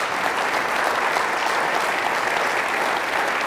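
Loud, dense applause from a large audience at a State of the City Address, for firefighters, steady throughout with no voices standing out.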